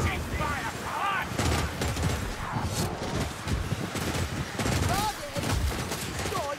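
Rapid gunfire rattles through a Warhammer Vermintide fight, dense bursts of shots mixed with clangs and game noise, loud and continuous under shouting voices.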